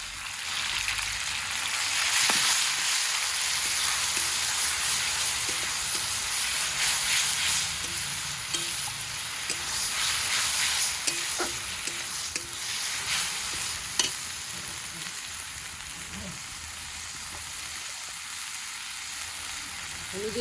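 Ground spice paste and onions that have been fried until red sizzle steadily in a pan for minced lamb, with continuous hissing and occasional scraping stirs and spoon clinks close by, no talking.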